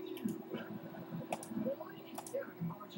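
Scattered clicks and taps of a computer keyboard, faint and irregular, under a low steady hum with some background noise.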